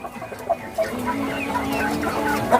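Laying hens in a battery cage coop cluck in short, scattered calls over a steady barn hum, several birds at moderate distance with a few louder clucks standing out.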